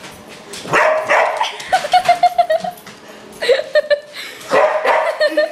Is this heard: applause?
no